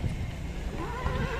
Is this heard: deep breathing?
no